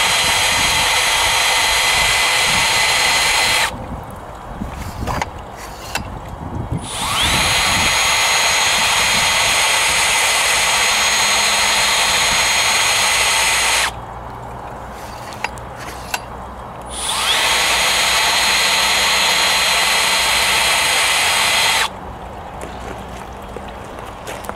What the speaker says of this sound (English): This is the action of the spin it off. It removes the magnetite by spinning magnets.